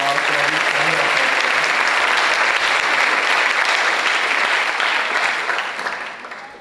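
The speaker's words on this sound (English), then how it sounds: "If we could please give her a round of applause, Debbie." A school audience applauds Debbie Weaver at a high school ceremony. The clapping is sustained and dense, holding steady for several seconds and then fading out toward the end.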